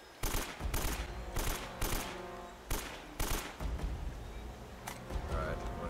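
Rapid bursts of AK rifle fire in the Uncharted: Drake's Fortune Remastered video game, several loud automatic volleys separated by short pauses, with a voice speaking briefly underneath.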